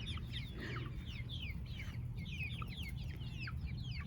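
Chickens cluck and chirp over and over in a yard, a steady busy chorus of short calls over constant low background rumble.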